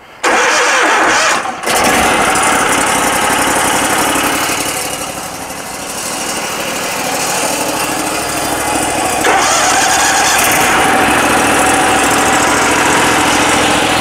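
A 70 HP trailer-mounted cold-water jetter engine cranks and catches, then settles into a loud, steady mechanical roar that runs on, close by, with no voices.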